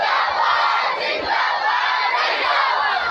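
A crowd of students chants a religious slogan in unison, loud roaring bursts of many voices shouting together, close and filling the space, swelling and surging across the clip.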